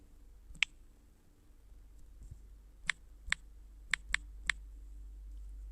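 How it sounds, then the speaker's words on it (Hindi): Taps on a phone touchscreen keyboard while typing a WhatsApp message: seven short, crisp clicks, one early and then a group of six in an uneven rhythm, close and fairly quiet over a low background hum. "जो आप यहाँ टाइप करना चाहते हैं उसको टाइप कर लें"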